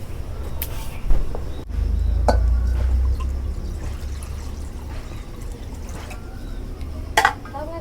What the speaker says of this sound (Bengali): কড়াইয়ের মধ্যে অল্প সামান্য পানি দিয়ে দিই।